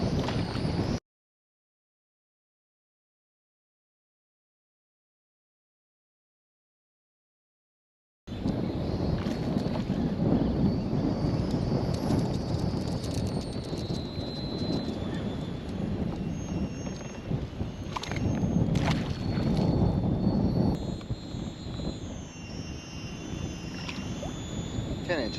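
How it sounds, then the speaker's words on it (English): Wind gusts over Milford Lake in Kansas, a broad rushing buffet against the microphone on a kayak after a brief silent gap, steady and fairly loud with a voice faintly mixed in. "I don't know if you can hear me with the wind"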